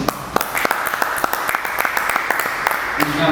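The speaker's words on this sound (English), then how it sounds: "A big round of applause for him." Audience applause at a photojournalism panel discussion, a burst of many hands clapping in a hall, steady and fairly loud, with a voice starting to speak near the end.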